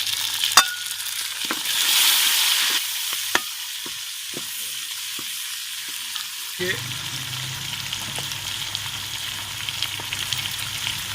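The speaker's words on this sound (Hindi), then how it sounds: "उसके बाद डालेंगे हरा लहसुन, इसको भी ब्राउन कर लेंगे। अभी टमाटर और हरी मिर्च डालेंगे।" Tomatoes and green chillies go into a hot pan, with sharp utensil knocks first, then a sudden rise into a steady close sizzle as they begin frying.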